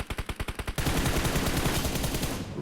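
Gunfire in the video game PUBG on an iPad Pro M2: a rapid burst of evenly spaced loud shots, then a dense continuous stretch of overlapping fire that fades slightly toward the end.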